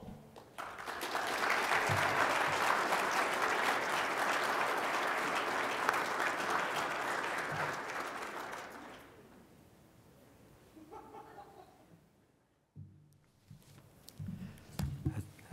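Audience applause at an afternoon session of a 2022 agriculture forum, a dense sustained clapping that swells and holds for several seconds, then fades out, followed by scattered quieter sounds.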